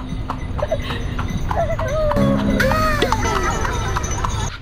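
Hooves of a horse pulling a carriage on a street in Bali, a steady loud clip-clop rhythm close by, with children and adults talking over it.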